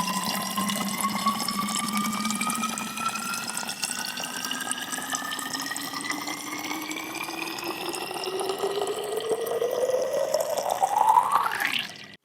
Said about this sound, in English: We're on our way to school, to work, we're taking our bottle and putting it under the tap. Filling it up produces a sound,